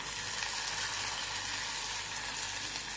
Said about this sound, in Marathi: आता यावर आपण भेंडी टाकून घेऊया